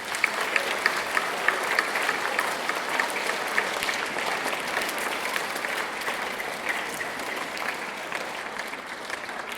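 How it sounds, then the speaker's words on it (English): Sustained applause from an audience at a middle school academic awards ceremony, honoring community service participants; steady dense clapping throughout at moderate distance. "A round of applause to all those that participated."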